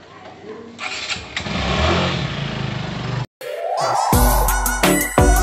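A Suzuki Gixxer motorcycle engine cranking and catching, then settling into a loud close running note after a brief cut, with rising revs at the end.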